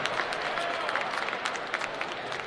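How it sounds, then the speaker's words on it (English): A crowd at a GCW wrestling kick-off event applauds, a steady wash of clapping from many hands at moderate distance, lasting through with no clear voices over it. "maybe a little bit of a round of applause is due"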